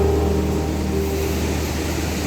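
Big Pacific Ocean waves by a blue lagoon in Northern Samar, heard as a loud, steady roar of surf with constant broadband wash and no pauses.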